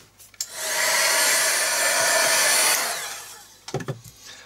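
A hair dryer roars steadily for about two and a half seconds to dry wet paint on an art journal page, then cuts off, leaving a few soft knocks and handling sounds close by.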